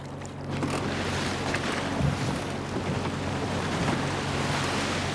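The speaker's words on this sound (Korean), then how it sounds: "파도가 거세지자 홍어잡이 배 선원들이 바빠집니다." Rough sea waves surge around a skate-fishing boat at sea, a steady broadband rush of water and wind noise with the low hum of the vessel underneath, continuous and moderately loud throughout.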